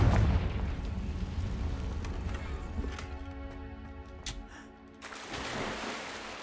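A Confringo blasting spell in Hogwarts Legacy erupts as a loud, booming explosion at the start, its rumble decaying over several seconds into scattered clatter and a ringing tonal tail.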